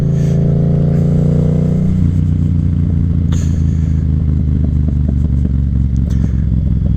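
Yamaha FZ07 motorcycle engine running steadily and loud throughout a ride, with a shift in tone near the two-second mark and some clattering road noise over the constant drone.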